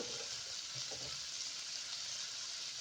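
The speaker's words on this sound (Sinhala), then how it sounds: "දාපු සුදු ලූණු රම්ප ටික බැදීගෙන එනකොට" Garlic, onion and rampe fry in a pan, a steady close hiss of sizzling oil with faint stirring scrapes throughout, no voices.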